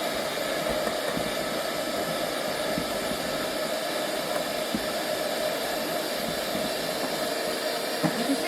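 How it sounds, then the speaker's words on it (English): A genoise sponge mixture being whisked continuously in a bowl, probably with an electric whisk, giving a loud, steady whirring hiss that holds an even level throughout with no talking. "I'm going to carry on whisking for a little bit longer."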